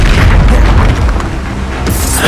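A spell detonates in Hogwarts Legacy, a loud, booming blast with a crackling burst that rings out in the game's combat, followed by a sharp flash of debris near the end.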